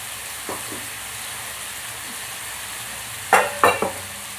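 Potatoes frying in a pan as ginger, garlic and onion paste is added: a soft steady sizzle throughout, broken near the end by three quick clattering stirs of a utensil against the pan.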